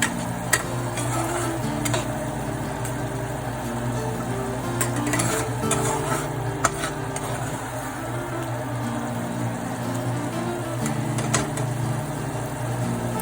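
Curry being stirred in a pan with a little sugar added, a soft continuous sizzle under scattered spoon taps and scrapes, with a low steady hum in the background and no voices.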